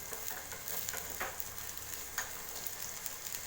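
Onions fry in a pan over a low flame for an okra tamarind curry, giving a steady soft sizzle with faint stirring scrapes, close and fairly quiet.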